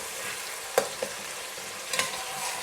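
Onions and tomatoes roasting in a pan for mutton biryani, a soft continuous sizzle broken by a few sharp stirring clinks, close and fairly quiet.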